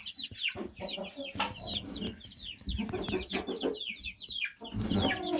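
A mixed flock of hybrid hens and roosters, incubator-hatched, clucks and chatters close by, with dense overlapping calls and a few sharper squawks throughout.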